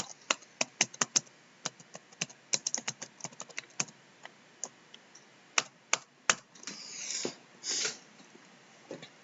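Close, crisp keystrokes on a computer keyboard as a comment is typed, arriving in irregular quick bursts and single taps, with a couple of brief rustling sweeps near the end.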